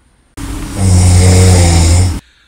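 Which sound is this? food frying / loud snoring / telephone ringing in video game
loud snoring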